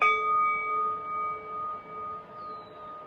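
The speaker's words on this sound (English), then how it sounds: "And then I brought along my singing bowl, because you all know how much I love my singing bowl" A singing bowl rings with a bright, steady tone that holds and slowly fades over about three seconds, close and clear with no talking.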